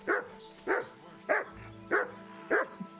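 A dog in the medieval video game Kingdom Come: Deliverance barks five times at an even, steady pace, moderately close, over a faint background hum.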